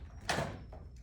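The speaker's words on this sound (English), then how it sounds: "See if I can open this door." A door opening during a dog training session at home: a single close, broadband rush of the door moving, followed by quieter settling sounds, with a steady low hum in the background.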